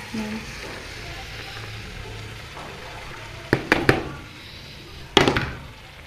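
Chopped, washed cabbage added to a hot pan for cabbage sabzi fry, a soft steady sizzle broken by a few sharp clattering bursts from the spoon and pan.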